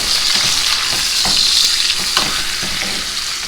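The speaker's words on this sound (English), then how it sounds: "And you want to baste this steak. We're going to sear both sides first." A steak sears in a hot pan with butter, a loud, steady, crackling sizzle with small pops throughout and no talking.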